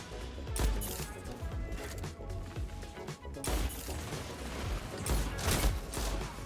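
Shotgun and pulse rifle fire in a video game, dense overlapping bursts of muffled shots and impacts under a busy game mix, with a brief lull midway before the firing resumes.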